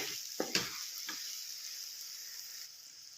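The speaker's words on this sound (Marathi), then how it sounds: "तर आता हे चांगलं परतू घ्यायचं आहे आपल्याला." Mixed vegetables with masala sauté in a pan, giving a steady bright sizzle with a few brief scraping stirs near the start, close and continuous.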